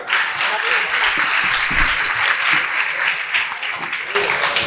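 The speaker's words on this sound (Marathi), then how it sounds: "ग्लोबल व्हिजनच्या या छोट्या बालकलाकारासाठी आपण पुन्हा एकदा टाळ्या वाजवूया" Dense, loud audience applause for a child performer at a music and dance show, many hands clapping steadily without a pause.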